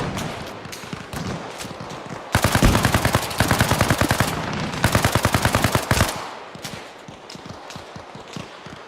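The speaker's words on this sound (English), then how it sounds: "Keep shooting, boss. Fucking machine gun." Sustained machine gun fire in the video game Arma Reforger, set in a forest, rattles in loud rapid bursts for several seconds, with scattered distant shots before and after.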